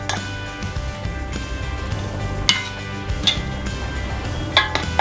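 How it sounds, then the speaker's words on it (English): A pot of chicken vindaloo with salt, jaggery and curry leaves is stirred, with soft scraping and a few sharp clinks of the utensil against the pot over a low sizzle, close and moderately loud. "I'm going to give it a quick stir so that the salt, jaggery and the curry leaves get a chance to spread all over"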